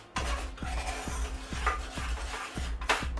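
Salted caramel sauce stirred in a pan, a steady rhythm of soft scraping strokes roughly twice per second, each with a dull knock against the pan, close and moderately loud.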